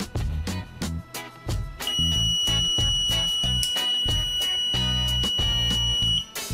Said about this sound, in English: it even sounded a buzzer